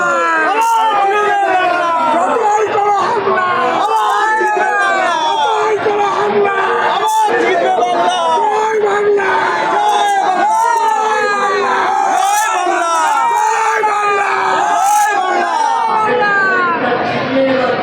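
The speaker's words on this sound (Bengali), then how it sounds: "কর্মী থেকে সমর্থক তারা কিন্তু একেবারে উচ্ছ্বাসে তারা কিন্তু স্লোগান দিচ্ছেন" Party workers and supporters fill an outdoor political rally in Baguiati for Chief Minister Mamata Banerjee with dense, continuous crowd noise, overlapping shouts, whoops and chanted slogans, loud and sustained throughout with no pause.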